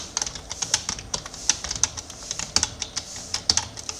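Slow, uneven keystrokes on a computer keyboard, sharp individual clicks spaced irregularly, close and fairly quiet, with no one speaking.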